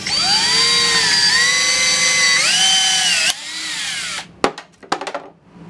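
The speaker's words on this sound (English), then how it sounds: "It properly snapped the rivet, and this part is on there good and tight." A drill drives an Astro Tools ADR14 blind rivet adapter, whining steadily with rising pitch as it pulls the rivet, then a sharp snap as the mandrel breaks, followed by a few metallic clicks and rattles.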